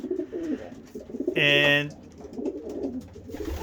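Domestic pigeons in a breeding loft give a brief nearby coo, with someone talking before and after it.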